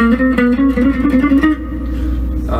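An electric guitar plays a warm-up run in 7/4 with an effects-processed, slightly distorted tone, a quick stream of picked notes that thins into a sustained lingering note.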